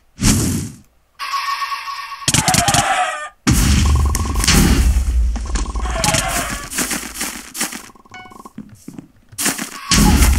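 Chicken clucks and squawks burst out repeatedly from an egg-blast attack during a Minecraft Super Smash Mobs match, loud and close, with short gaps of near silence between bursts and some mechanical clatter.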